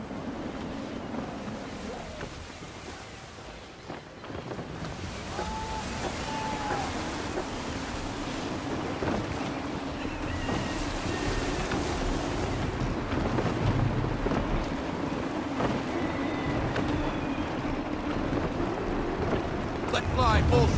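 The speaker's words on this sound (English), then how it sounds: "Wind looks to be shifting. Stay alert, Connor. Gusty winds can be difficult to manage." Gusty wind and rolling waves on a sailing ship in Assassin's Creed III, a steady roar of wind and surf with sea noise building slightly, while a voice speaks over it.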